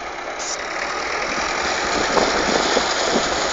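International Harvester 434 tractor engine running steadily nearby, a continuous loud rumbling chug with a rough knocking edge that holds unbroken throughout.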